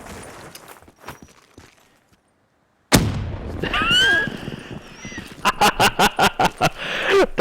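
In Call of Duty, a sticky grenade goes off with a sudden loud blast that cuts through the quiet and rumbles on, followed by a rapid, rhythmic burst of gunfire.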